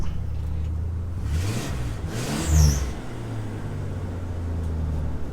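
Car engine that had been filled with sand and water firing up and idling, a moderate mechanical rumble with a brief louder surge in the middle before settling back to a steady run.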